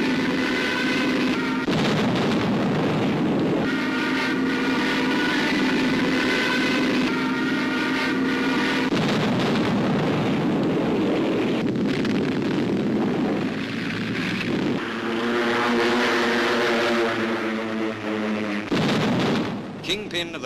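WWII artillery fire from guns of the 38th Chinese Division near Mandalay, a continuous heavy rumble of booms under a steady narrating voice, with droning engine-like sound throughout.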